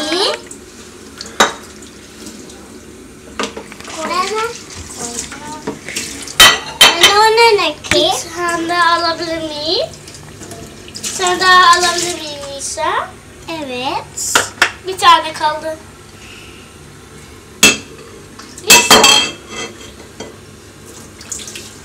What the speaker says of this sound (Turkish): Kardeşinle bulaşık mı yıkıyorsunuz?